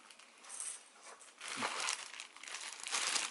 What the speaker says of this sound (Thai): ถูกห่อมาในถุงชั้นหนึ่งนะครับแกะถุงออก